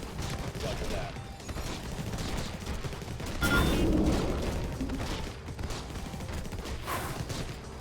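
Rocket launcher fire in the video game Infested Planet: continuous bursts of gunfire and booming blasts, with one heavier, louder explosion in the middle, all dense and close.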